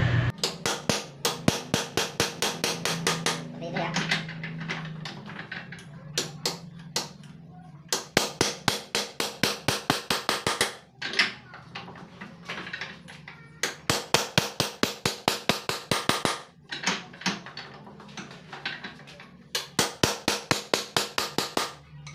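Hammer strikes a chisel on a leaking Honda Megapro rear shock absorber, sharp metallic blows in rapid bursts of many hits separated by short pauses, close and loud with no talk.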